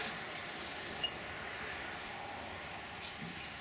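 A 2007 Husqvarna TE250 motorcycle exhaust is scrubbed with a green scouring pad and Comet bathroom cleaner, a close, steady rasping rub that breaks off after about a second, followed by quieter intermittent scraping.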